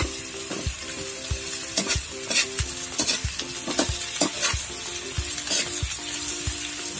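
Banana heart frying with garlic in a pan, a steady close sizzle with a spatula repeatedly scraping and stirring in a regular rhythm, no voices.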